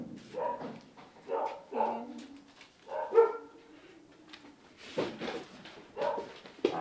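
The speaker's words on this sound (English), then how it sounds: "Was that really bad with the dogs barking?" Several dogs bark and yip in scattered, uneven bursts in a quiet indoor setting, with occasional whimpers between the barks.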